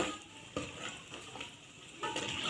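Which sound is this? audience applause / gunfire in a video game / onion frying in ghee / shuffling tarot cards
onion frying in ghee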